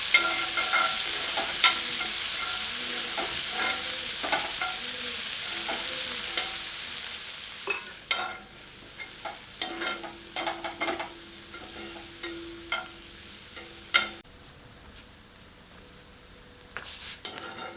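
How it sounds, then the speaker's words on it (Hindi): Onions frying in oil in a pan over medium heat, a steady hiss and sizzle with scattered clinks and scrapes of a ladle stirring, fairly quiet and close, with no talk. "अब उसी पैन में एक करछी के लगभग तेल गर्म करते हैं। अब मध्यम आंच पर प्याज को सुनहरा होने तक भूनते हैं।"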